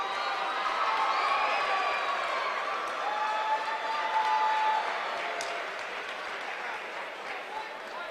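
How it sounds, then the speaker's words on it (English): Crowd at a high school basketball game in the Frank R. Williams Activity Center, nearly 4,000 strong, a dense roar of cheering and applause filling the hall, easing slightly toward the end. "Highly anticipated crowd here at the Frank R. Williams Activity Center."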